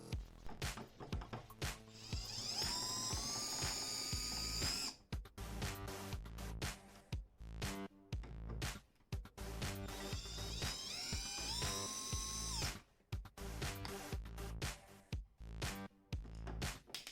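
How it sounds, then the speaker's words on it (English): An Adedad cordless drill whines as it bores through 3/4 inch plywood, running in two long sustained bursts with short pauses and pitch shifts as it cuts, heard close and alone. "It can also drill through the 3/4 inch plywood with ease."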